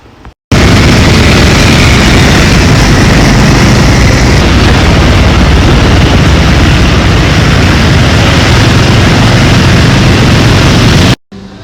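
A Grab motorbike engine roars loud and steady, close up with heavy wind buffeting, running continuously for most of the ride with no talk over it.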